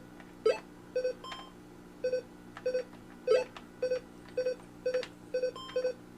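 Electronic timer beeping in a regular rhythm, about a dozen short, evenly spaced bleeps over a faint background hum.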